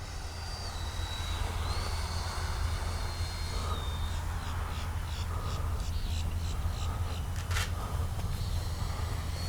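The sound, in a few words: RC jet model Freewing F-16 landing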